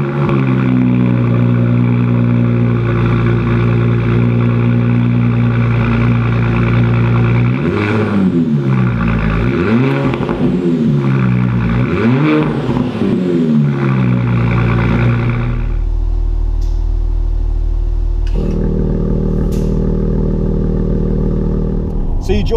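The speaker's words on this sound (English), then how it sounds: "This is our active valved, sound architect, carbon tipped exhaust." A 2019 Porsche Cayenne V6 idles loudly through a deep, rumbly active-valved, carbon-tipped exhaust, then revs up in three sharp blips before settling back to a low burble.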